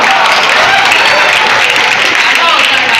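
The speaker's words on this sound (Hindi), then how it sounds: "कवि कुछ सुनाता है तो उसको दाद दिया जाता है तालियों से" An audience applauds a poet reciting at a Teacher's Day event, a dense, steady burst of many hands clapping close and loud for the whole stretch.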